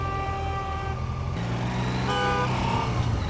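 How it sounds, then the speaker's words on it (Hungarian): Car horns honk amid busy city traffic in Almaty, Kazakhstan, with sustained tooting tones over a rumble of engines, fairly loud and close, with no talk. "Mindenki milyen dudálós, na?"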